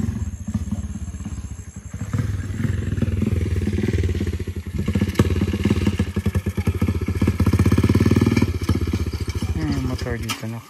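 A motorcycle engine runs close and loud with a rapid, pulsing putter, swelling as it passes and dropping away near the end, while people talk over it.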